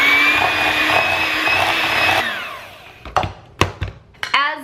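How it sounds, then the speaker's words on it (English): An electric hand mixer whirs loudly and steadily as it mixes peanut butter cookie dough, then shuts off and winds down, followed by a few scraping knocks against the bowl. "I'm going to use my handy dandy hand mixer to mix all of this together"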